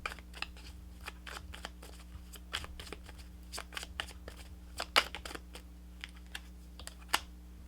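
Tarot cards being shuffled up close, a quick irregular patter of soft snapping flicks over a steady low electrical hum, with no voices.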